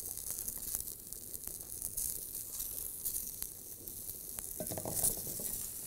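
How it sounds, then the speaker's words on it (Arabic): Onions, carrots and other vegetables sauté in oil in a pan, giving a steady close sizzle and crackle with faint stirring clatter and a brief louder stir near the end. "ونحمص الميربا الاول"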